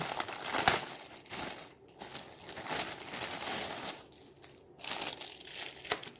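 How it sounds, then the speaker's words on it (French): Earphones are unwrapped from their packaging, producing close, continuous plastic crinkling and crumpling with a few sharper crackles and short pauses, no voices. "Ça c'est les écouteurs, je vais les déballer."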